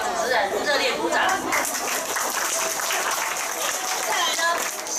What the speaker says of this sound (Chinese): 我们先给两位主持人热烈鼓掌